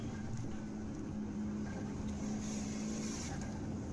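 A Mitsubishi Evo in a street race, its engine giving a steady, droning roar that holds at one level throughout, over a constant wash of road and wind noise, with no speech.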